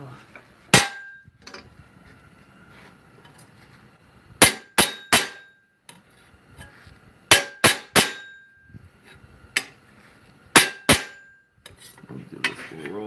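Sharp metallic hammer blows on hot metal ring out in irregular bursts in a blacksmith shop, some in quick double and triple strikes, with quiet pauses between groups.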